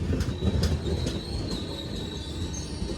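A Ratnagiri–Diva passenger train pulls in, its wheels giving a loud, sustained metallic squeal over the heavy rumble of the railcars, with a few sharp clanks near the start.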